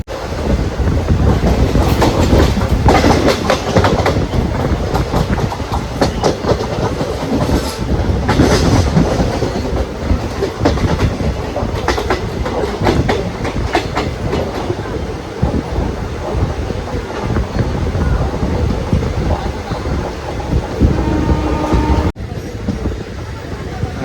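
An Intercity Express running on the Shornur–Ernakulam double line, a loud continuous roar of wheels on rails with steady clickety-clack and wind rushing past the carriage for the whole stretch.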